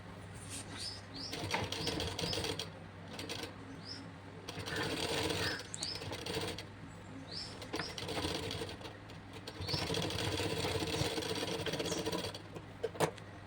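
A sewing machine runs a top-stitch along a lined blouse, its steady mechanical whir continuing in bursts with brief pauses between runs, fairly faint and close.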